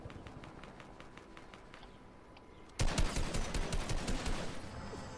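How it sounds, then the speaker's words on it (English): Shooter video game gunfire, first as faint, evenly spaced distant shots, then a sudden loud, close burst of rapid automatic fire that keeps going to the end. "Billy Bob over here shooting at me or something"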